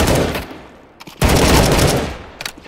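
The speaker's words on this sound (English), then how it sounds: "Nice shooting." Loud close bursts of automatic gunfire from Counter-Strike: Global Offensive deathmatch against bots, two long rapid volleys separated by a short gap, then a few final shots.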